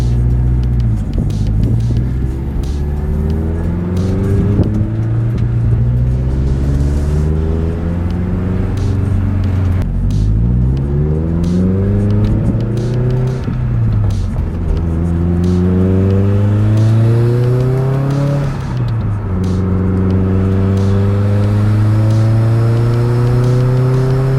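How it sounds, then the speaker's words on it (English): A 2008 Subaru Impreza WRX STI engine revs up repeatedly on a test drive, rising through gears with steady rumble and whine, close and loud for the whole stretch. "Now we're gonna go for a test drive, make sure everything is good."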